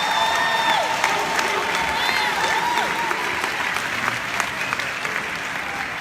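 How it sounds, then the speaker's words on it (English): Audience applause at a university convocation ceremony, steady and dense throughout, with no break and no clear voices over it. "let's give him another round of applause"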